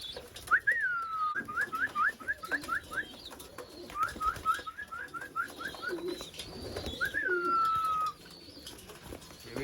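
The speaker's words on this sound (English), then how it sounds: "These are the younger birds right here" Young racing pigeons in a loft give repeated cooing calls, short bursts of whistling coos in quick runs with a longer drawn note at the end, fairly close and clear.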